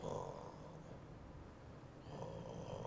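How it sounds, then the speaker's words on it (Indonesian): Low, rasping snores repeat in slow breaths, fairly close and steady, with a quiet pause in the middle before the snoring swells again. "kok ada suara mendengkur?"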